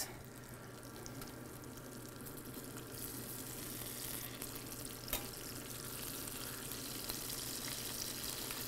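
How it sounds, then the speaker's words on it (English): Food frying in a pan in a kitchen, a steady dense sizzle and crackle that holds at a constant moderate level throughout, with a faint clink near the middle and no talking. "So as these are frying,"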